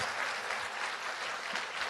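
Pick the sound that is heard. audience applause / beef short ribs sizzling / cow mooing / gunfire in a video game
audience applause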